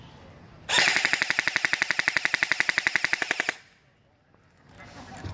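An airsoft gun fires on full auto in one sustained burst of about two dozen sharp, evenly spaced shots over roughly three seconds. It is loud and close, then cuts off, leaving quiet background.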